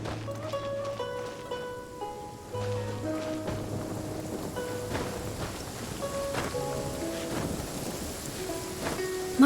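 Steady rainfall patters throughout a scene in the game Genshin Impact, with soft scattered drops and distant rumbles, beneath gentle melodic game music.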